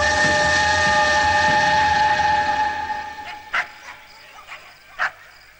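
A dog barks a few separate times, short and moderately loud, after a steady whistle-like tone fades out.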